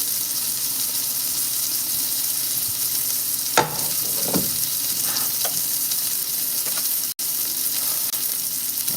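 Sausage frying in a pan at brunch makes a continuous loud sizzle close by, with a few clinks and scrapes of a utensil partway through and no talking.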